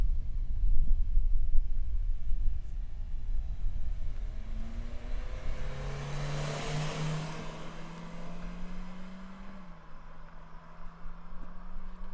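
A 2017 Toyota Corolla iM with an engine under 140 horsepower accelerates from a standstill toward 60 mph, its engine note rising steadily and shifting through gears, heard from a distance at moderate loudness with no talking.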